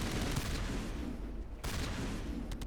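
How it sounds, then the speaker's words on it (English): Sustained gunfire rattles through a firefight with Geth turrets in the video game Mass Effect, a dense, continuous barrage heard fairly close with only a brief lull partway through. "Who the fuck are they shooting at?"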